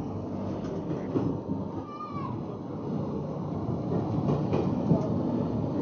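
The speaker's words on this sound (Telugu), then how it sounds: "బయట ట్రైన్ నుంచి వచ్చే నాయిస్ ఎక్కువగా ఉండడం వల్ల" A train on the Vizag–Araku line rumbles steadily, heard from inside a glass-roofed coach, with a constant low rattle and a brief high squeal from the wheels partway through.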